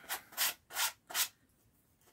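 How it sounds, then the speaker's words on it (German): A thick piece of brown leather is coarsely sanded by hand in four quick, rhythmic rasping strokes, close and fairly loud, followed by a brief pause. "grob schleifen."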